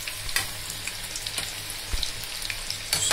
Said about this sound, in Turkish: Evet, pakoralarımız kızarıyor arkadaşlar.